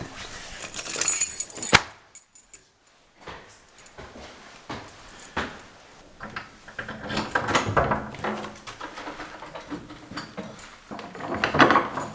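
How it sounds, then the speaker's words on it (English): Metal keys jangle and clink in bursts while someone checks into a hotel room in Venice, with pauses between handling sounds and a few thumps like a drawer or door. "Keys."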